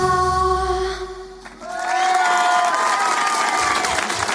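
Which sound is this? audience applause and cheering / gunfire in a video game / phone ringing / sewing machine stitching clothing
audience applause and cheering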